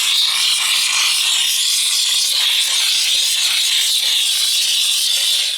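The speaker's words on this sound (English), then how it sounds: "I found the steam was exceptionally loud coming out" A Steamify steam cleaner with a straight nozzle blasts steam in a loud, harsh, continuous hiss close by, holding steady for several seconds before cutting off.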